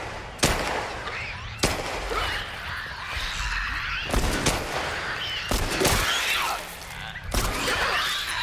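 Gunfire from The Last of Us Part 1 game: five or six sharp, loud shots at uneven intervals over a steady rumbling background, each with a short reverberant tail.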